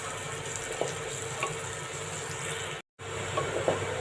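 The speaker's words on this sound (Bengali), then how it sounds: "পেঁয়াজগুলো ভাজা হয়ে গেছে" Onions sizzle in a hot pan for a Bengali kolmi shak stir-fry, a steady close crackling hiss with faint stirring scrapes and a momentary cut near the end.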